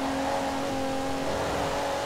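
Rossion Q1 kit car engine in Forza Horizon 4, pulling hard at high speed near 150, a steady loud sustained engine drone with constant tone throughout, no talk.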